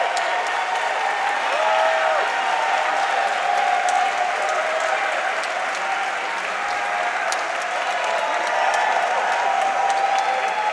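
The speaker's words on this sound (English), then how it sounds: "Standing ovation indeed from the crowd as they welcome FINEM." Sustained applause and cheering from a large crowd giving a standing ovation at an esports tournament main stage, continuous and dense throughout.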